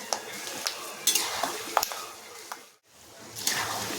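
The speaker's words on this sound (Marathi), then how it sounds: "आता आपण शेंगदाणे तेलामध्ये चांगले भाजून घ्यायचे" Peanuts roasting in oil for Kolhapuri bhadang, stirred in a pan: a soft continuous sizzle broken by repeated scraping and clinking of the spoon against the metal, close and moderately quiet, with a brief pause midway.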